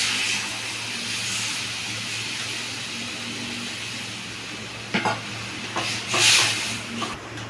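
Spices frying in oil in a pan hiss steadily, then a few clattering strokes and a brief louder burst sound as water is added to the spice mix.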